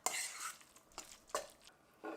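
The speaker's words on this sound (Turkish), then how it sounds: "Şöyle gelişi güzel bir karıştırıyorum" A spoon scrapes and stirs through a chicken and vermicelli salad in a bowl, giving several soft swishing strokes with brief pauses between them.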